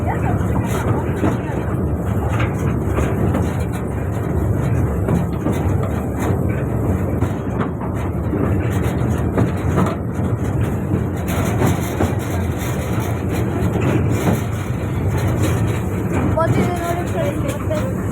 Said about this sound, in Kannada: ಟ್ರೈನಲ್ಲಿ ಬರೀ ಸೌಂಡೇ ಇದೆ, ಬಿಟ್ಟರೆ ಇನ್ನೇನೂ ಇಲ್ಲ.